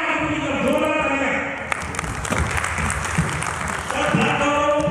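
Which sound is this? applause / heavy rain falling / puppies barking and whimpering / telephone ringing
applause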